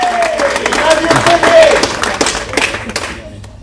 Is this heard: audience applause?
yes